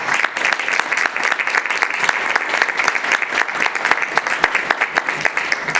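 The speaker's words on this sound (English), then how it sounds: "Can we have a round of applause for our artists?" An audience at a Women in Clay event applauds the ceramic artists with brisk, steady clapping. The sound is close and loud, with individual hand claps standing out from a dense, even patter that carries on without any talk.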